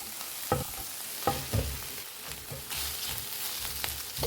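Spinach is stirred into pasta and corn in a hot pan, with a low sizzle under soft, irregular scraping and tossing strokes, close and fairly quiet with no talk.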